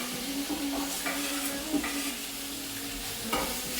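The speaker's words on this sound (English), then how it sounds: "I'm cutting up my bacon in just large chunks. I'm gonna add it to my hot pan over here." Bacon cut into large chunks sizzles and spits steadily in a hot pot, a close, even frying hiss with occasional louder pops and stirring scrapes, no voices.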